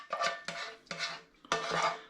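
A spoon scrapes and spreads sauce across turkey biryani in a dish, four distinct rubbing, clinking strokes at close range with no talk.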